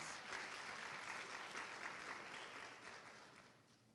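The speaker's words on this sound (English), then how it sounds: "let's give them a round of applause" Crowd at a university homecoming coronation ceremony claps in a soft, distant, continuous wash that slowly fades, heard alone without talk.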